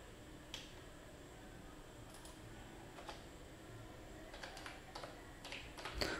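Typing a number on a computer keyboard: faint, scattered key clicks, a few isolated taps followed by a quicker cluster near the end, over a quiet hiss with no speech.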